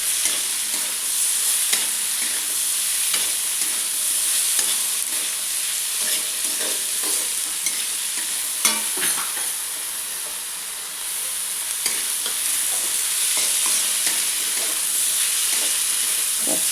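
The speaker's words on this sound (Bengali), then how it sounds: "ক্যাপসিকামগুলোকে আর এই সবজিগুলোকে একটু ভালো করে একটু ভেজে নেব।" Chopped capsicum and mixed vegetables frying in a pan for chowmein, a steady close hiss and sizzle with frequent stirring scrapes and clinks throughout, no voices.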